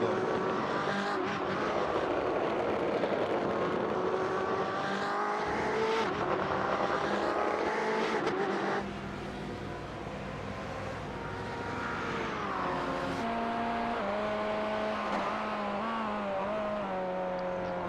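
GTE race cars lap the Okayama circuit in a racing video game, engines roaring continuously with rising and falling pitch as they shift and chase each other, a dense loud drone with a brief drop midway.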